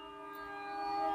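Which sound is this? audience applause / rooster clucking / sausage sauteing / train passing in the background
train passing in the background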